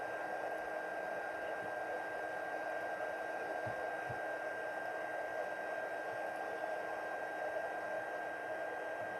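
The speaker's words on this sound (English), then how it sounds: "Let me add it while I'm waiting for my heat tool to warm up." A heat embossing tool blows hot air in a steady, continuous whir with a constant hum, close and unbroken throughout, with no talk.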